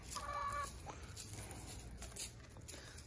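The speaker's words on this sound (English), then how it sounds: "The chickens, who were all acting very strange yesterday, are now acting like chickens again, ready for a little mealworm party." Backyard hens cluck in short repeated bursts at close range, a flock gathered and waiting for a scatter of mealworm treats, with faint outdoor background noise and no talking.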